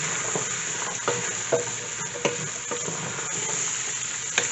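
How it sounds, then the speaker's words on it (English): Boiled chana mixed with roasted cumin is stirred in a pot, a steady hissing bed broken by several soft scraping spoon strokes spaced about a second apart, close and clear with no voices. "Let's give this a stir and get it all mixed in."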